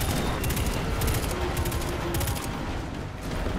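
Rapid gunfire in the video game Destiny 2, dense bursts of automatic shots rattling continuously over a busy battle background, loud and close, with no talking.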